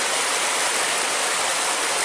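Steady rushing water of a stream flows continuously, loud and close, on the Black Forest Trail at Slate Run, Pennsylvania, with no voices or other sounds.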